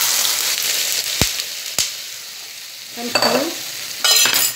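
Fish roe omelette cooks in hot oil, giving a soft steady sizzle with a few sharp clicks of a utensil and brief bursts of louder crackling near the end.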